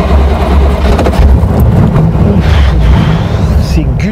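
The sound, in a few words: Chevrolet Corvette C2 engine sound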